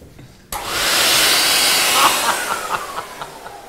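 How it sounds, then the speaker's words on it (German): A hair dryer switches on abruptly in a dog grooming salon and blows with a loud, steady whoosh and hiss, with a few faint clicks and tones underneath. "ich würde dann diesen Föhn als Saugapparat umwandeln"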